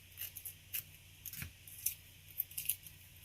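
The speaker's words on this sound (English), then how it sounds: "I'm just going to cut around, cut off this excess tape" Scissors snipping off excess tape while crafting rubber stamps, a series of short crisp cuts spread irregularly over a few seconds, close and fairly quiet.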